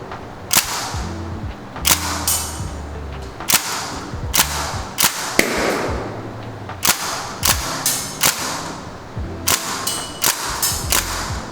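Northeast Sten gas blowback airsoft gun fired freehand, a string of sharp cracking shots with mechanical clacks, single and in quick clusters, close and loud, spaced unevenly.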